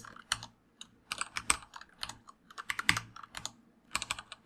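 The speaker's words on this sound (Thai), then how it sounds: "ฉะนั้นเราก็พิมพ์ไปเลยในตรงนี้นะครับเนี่ยพิมพ์ต่อได้เลยนะ ผมพิมพ์ว่า test" Rapid, irregular keystrokes on a computer keyboard, entering data into a database table, come in close, crisp bursts with short pauses between them, and no voices are heard.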